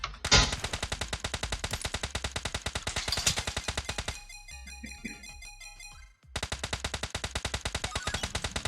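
Suppressed assault rifle fire in the mobile game PUBG Mobile: rapid, evenly spaced automatic shots in long sustained bursts, loud and close, with a roughly two-second break before the firing resumes.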